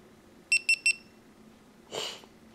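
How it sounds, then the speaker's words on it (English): A GoPro Hero 4 Black action camera powering on gives three quick, evenly spaced high-pitched beeps close to the microphone in a quiet room, followed by a brief soft rustle. "beeps 3 times when you start it up."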